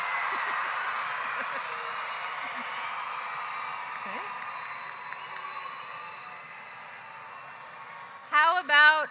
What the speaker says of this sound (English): Who is here to cheer for their brother or sister?